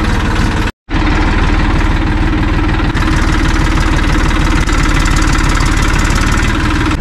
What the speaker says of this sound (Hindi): अब जा रहे हैं एक ट्रैक्टर का राइड लेने